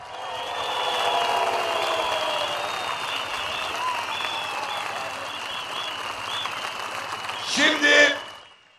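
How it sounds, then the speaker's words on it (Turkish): A political rally crowd applauding in solidarity, a broad sustained wall of clapping that rises, holds and gradually thins, followed by a loud voice over a public-address system. "Bayrampaşa'ya bir kuvvetli dayanışma alkışı önce."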